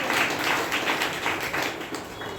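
A church congregation at a Sunday service claps together loudly in a dense, continuous burst of applause that tapers slightly toward the end.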